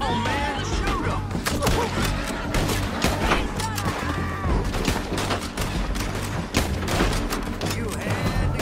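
Rapid gunfire in a Red Dead Redemption 2 town shootout, with dense overlapping shots and cracks over game music and shouting voices throughout.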